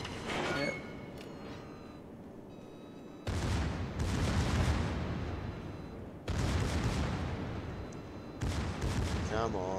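Gunfire in a video game battle, heavy sustained bursts of shooting broken by short pauses, loud and dense throughout.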